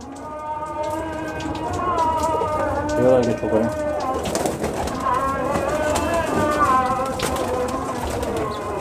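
Breeder pair of pigeons coos in a loft, soft repeated throaty calls close by, with someone talking over them and a faint patter of background noise.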